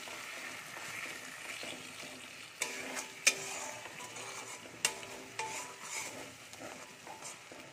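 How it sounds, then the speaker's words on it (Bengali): Tomato paste sizzling in a pan on a low gas flame, with a spatula stirring and several sharp clinks of utensil against the pan over a steady fry. "এবারে আমি দিয়ে দেব টমেটোর পেস্টটা। তাও খুব ভালো করে কষিয়ে নেব যাতে টমেটোর কাঁচা গন্ধটা না থাকে।"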